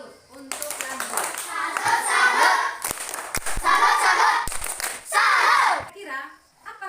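Schoolchildren in a Catholic religion class perform a rhythmic clapping chant, sharp group claps punctuating chanted voices in short bursts separated by brief pauses.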